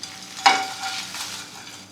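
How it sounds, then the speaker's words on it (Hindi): Whole spices for tandoori masala are dry roasted in a hot pan over a low flame and stirred gently: one sharp close scrape, then soft rustling and a light sizzle. "बस लो फ्लेम पर हल्के हल्के हाथों से इसे चलाते रहें और 4 से 5 मिनट रोस्ट करते रहें।"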